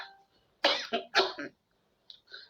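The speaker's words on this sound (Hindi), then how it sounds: "खांसी हो रखी है" A couple of harsh, close coughs in quick succession, followed by a short pause and a softer throat sound.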